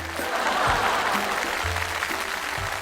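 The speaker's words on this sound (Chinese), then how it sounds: "掌声鼓励啊" Audience applause at a televised brain-challenge competition, a steady wash of clapping throughout, moderately loud, with a faint voice underneath.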